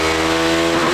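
A 408 mm motocross bike, reprogrammed like a road bike, revs hard on a dynamometer, its loud, steady engine note holding close and constant with a slight pitch shift near the end.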